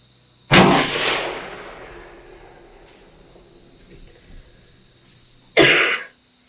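Two sharp, loud bursts about five seconds apart, the first trailing off in a long fading decay, the second clipped and abrupt; could be harsh coughs.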